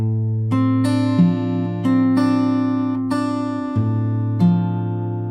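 Fingerstyle acoustic guitar plays the intro of a song: a short phrase of plucked notes over a low open bass string, each attack ringing and decaying in an even rhythm, close and clear with no talking.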